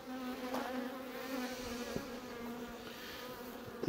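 Honeybees buzz steadily around a beehive, a close, continuous drone with wavering tones, broken by a few small knocks and taps and no talking.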